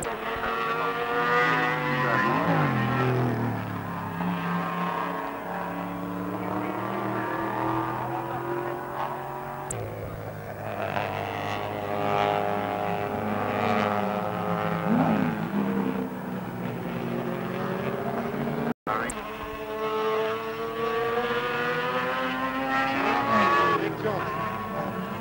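Race car number 41 drives a mountain course on radial road tyres, its engine whining and rising and falling through gear changes as it passes, heard alongside a commentator talking.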